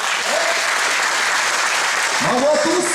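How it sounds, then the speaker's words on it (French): Audience applause breaks out at a martial arts belt-grading ceremony, steady clapping from a crowd filling the whole clip, with a few voices calling out near the end. "Pour le salut, sous les applaudissements s'il vous plaît."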